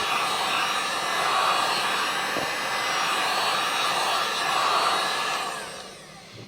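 An electric heat gun blowing hot air onto a vinyl stencil on a plastic disc golf disc, a steady close whooshing drone that runs throughout and fades slightly before a click at the end.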